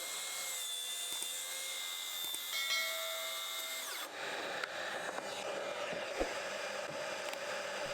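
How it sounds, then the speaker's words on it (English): A track saw rips through wood while making slot cuts for a router sled base, its steady high whine and cutting noise running continuously and fairly close before the tone drops and changes partway through. "Then I'm going to use the track saw to make 2 cuts to join these circles together."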